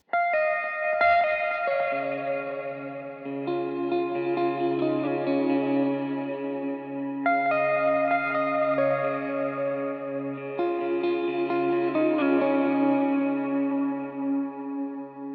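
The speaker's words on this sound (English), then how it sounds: "The tone for this, we're gonna do reverb, kind of a longer, more dreary sounding reverb. And again, some tape delay." Electric guitar, played in the fourth pickup position, rings out sustained chords and notes drenched in long, dreary reverb and tape delay, each strike blooming and trailing off over a steady droning wash, alone without talk.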